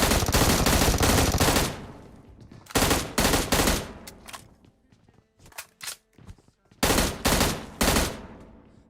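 Rapid automatic gunfire from the video game PUBG, with long bursts, several short volleys and a few single shots separated by quiet gaps, loud and close.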